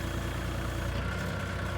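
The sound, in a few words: tractor engine while digging in sand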